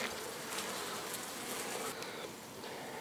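Bees swarm in an opened beehive built up with comb and honey, giving a dense, steady buzzing hum that stays close and even throughout, with no voices.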